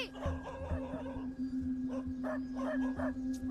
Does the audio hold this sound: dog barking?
yes